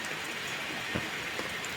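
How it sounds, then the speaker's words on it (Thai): Steady rain falling, a dense, even hiss throughout with a few louder drop spatters and no voices. "วันนี้ฝนตก"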